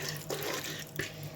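Water poured from a glass into a pressure cooker holding meat and spices, a close, steady splashing pour lasting briefly.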